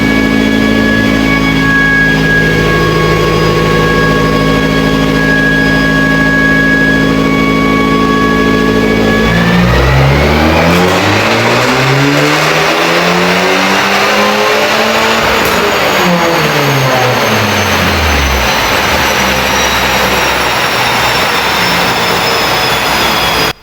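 A tuned Abarth 500 with a stage 1 upgrade, its engine on a final dyno run, starting at a steady high drone, then revving hard with a loud rising and falling sweep that stays intense and close to the end.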